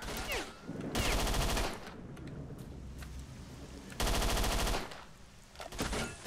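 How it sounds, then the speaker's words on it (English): Gunshots in S.T.A.L.K.E.R.: Shadow of Chernobyl: two loud, sustained bursts of rapid automatic fire ring out close by, with a quieter gap between them and a few scattered shots at the end, with no talk. "Shots."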